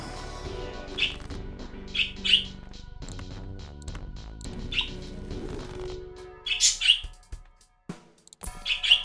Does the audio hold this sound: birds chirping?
yes